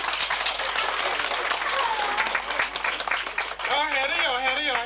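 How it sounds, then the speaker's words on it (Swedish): Audience applause at a 1986 magic show in Björboholm, a steady wash of clapping with lively voices and a shout rising over it near the end. "Ge honom en applåd då."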